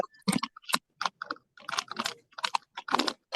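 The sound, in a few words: someone typing on a computer keyboard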